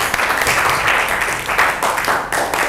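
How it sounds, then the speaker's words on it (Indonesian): A class of students bursts into loud, close applause after a classmate's correct answer, dense rapid clapping filling the room without pause. "Tepuk tangan dong."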